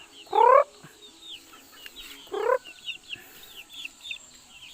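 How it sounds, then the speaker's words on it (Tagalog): Two loud, close clucking calls from chickens on a farm in the countryside stand out, with quieter chick peeps and chatter scattered between them. "Dahil mga manok guys oh."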